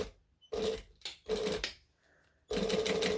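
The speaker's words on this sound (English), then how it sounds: "And then I'm going to top stitch" A domestic sewing machine top-stitches a fabric pocket in three close bursts of rapid, even whirring, with short quiet pauses between runs.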